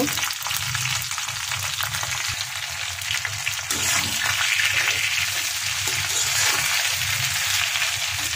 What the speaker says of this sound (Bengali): এখন সবগুলো একসাথে নেড়ে চেড়ে দিব।